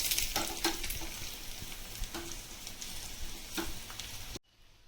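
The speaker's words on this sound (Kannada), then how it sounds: "ಬೆಳ್ಳುಳ್ಳಿ ಹಸಿಮೆಣಸಿನ್ಕಾಯಿ ಸ್ವಲ್ಪ ಫ್ರೈ ಆಗಬೇಕು" Garlic and green chillies fry in hot oil for a tempering for mixed vegetable pachadi, giving a close, continuous crackling sizzle with scattered pops and stirring before it cuts off abruptly near the end.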